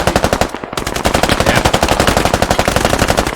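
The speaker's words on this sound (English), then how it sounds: "Enemy close. Enemy MG." An enemy machine gun firing in the video game Squad, a loud, close, sustained burst of rapid rhythmic shots with a brief pause near the start before the fire resumes unbroken.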